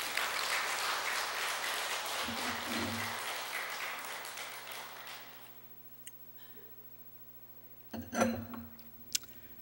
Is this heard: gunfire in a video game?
no